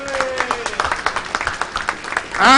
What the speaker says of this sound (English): can we have the final round of applause to Hari Shankar